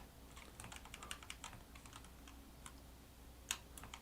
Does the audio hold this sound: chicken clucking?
no